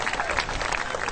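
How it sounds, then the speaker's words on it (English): An audience claps in a brief, dense burst of applause at a birds-of-prey show at Healesville Sanctuary, many hands together, loud and close. "Give her a big round of applause."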